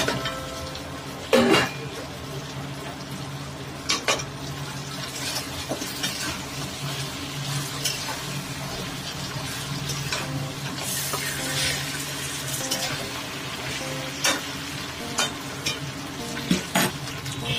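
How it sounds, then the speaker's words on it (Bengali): Fish heads fry in a spiced pan with roasted cumin and coriander powder, a steady low sizzle running throughout while a spoon scrapes and stirs, with several louder clanks of utensil against the pan. "ভালো করে মিশিয়ে নিয়ে মাছের মাথাগুলো দিয়ে দিলাম"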